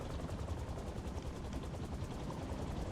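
A helicopter rotor in the Marvel's Spider-Man 2 video game makes a loud, steady, close-up beating whir that fills the whole moment without pause.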